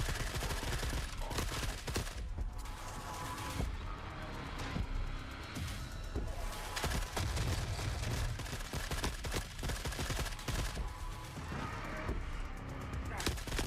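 Dense, continuous gunfire in the shooter Forever Winter while fighting a sniper: rapid bursts of shots and impacts over roughly fourteen seconds, loud and close, with occasional heavier blasts and crashes mixed in.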